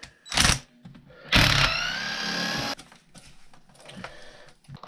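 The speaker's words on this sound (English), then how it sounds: "we have to unbolt our shock" Hand tools unbolting a 3mm shock bolt on an Arrma Outcast 8S RC car: two short loud bursts of mechanical rattling and whirring, the second one drawn out, then quieter clicks and fiddling close by.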